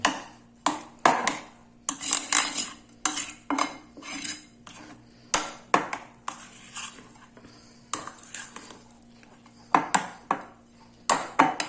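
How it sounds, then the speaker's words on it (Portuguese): Ciabatta dough ingredients stirred in a bowl with a metal utensil, making repeated sharp clinks and scrapes against the bowl in an irregular rhythm, close and clear with a faint steady hum behind. "Só misturar bem aqui todos os ingredientes"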